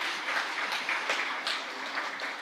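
Applause for a mayor at an international rehabilitation forum in Lviv, a dense, steady crowd clapping that swells slightly in waves and continues throughout.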